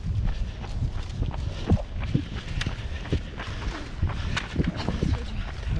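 Marathon runners' footsteps patter on pavement at about 35 km into the Orlen Warsaw Marathon, a steady, continuous tread of many feet heard close by amid general race ambience.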